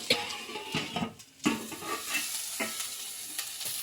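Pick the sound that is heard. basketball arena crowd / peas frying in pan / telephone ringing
peas frying in pan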